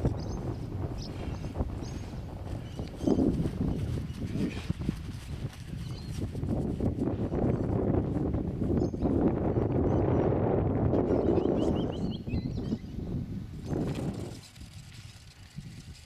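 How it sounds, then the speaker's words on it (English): Gusty side wind buffets the microphone at an outdoor RC glider bungee launch site, a steady low rumble that swells through the middle and eases off near the end, with no voices. "The wind's changed and picked up a little."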